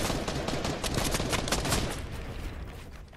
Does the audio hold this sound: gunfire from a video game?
yes